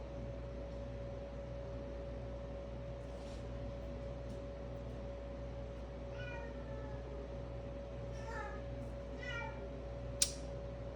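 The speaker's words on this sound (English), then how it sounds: "that's my cat" A pet cat named Watson meows a few times, soft and somewhat distant, over a steady background hum and hiss in a home where someone is painting.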